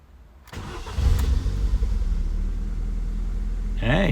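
A Ford Puma 1.7 engine cranks briefly and catches, settling into a steady low idle. A short spoken exclamation comes near the start.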